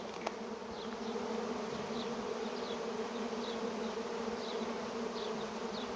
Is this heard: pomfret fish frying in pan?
no